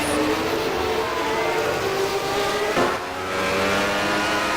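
Formula 1 race cars in a 1991 F1 video game on a Brazilian Grand Prix track, engines droning loud and steady with a brief pitch sweep as a car passes close, a constant synthetic roar throughout.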